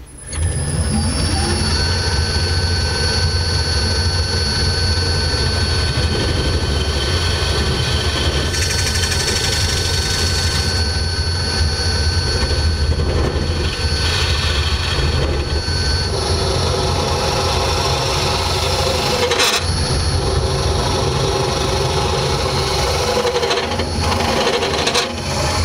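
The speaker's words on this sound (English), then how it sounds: "it's just a simple case of bulk hollowing this out and getting the wall thickness down" A wood lathe hollowing out a natural edge wood vase, a steady loud whirring hum with the gouge cutting continuously throughout, and no talk.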